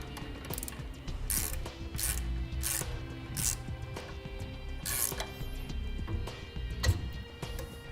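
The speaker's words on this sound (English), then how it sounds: "using a 7/32 Allen socket and a 9/16 wrench, I'm going to snug up my hardware" A ratchet with a 7/32 Allen socket snugs up the mounting hardware of a B and W Companion OEM fifth wheel hitch with slider, giving a steady series of close mechanical clicks across the stretch with a faint background hum.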